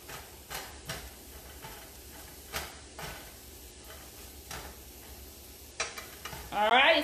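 Zucchini noodles and shrimp sizzling in a pan while being stirred, a soft sizzle broken by repeated scraping stir strokes, close by, with a louder clatter at the very end.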